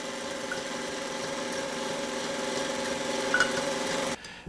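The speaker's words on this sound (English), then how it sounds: "beat the yolks again at high speed for about 5 minutes until they become very, very thick" An electric mixer beats egg yolks at high speed for a Hungarian walnut torte, giving a steady, close motor whine that holds evenly before cutting off near the end.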